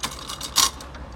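A torque wrench tightens the variator nut on a Yamaha TMAX scooter, giving a short run of close ratcheting clicks with one louder click in the middle, alone and brief.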